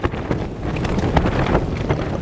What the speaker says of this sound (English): As you can tell, it's still windy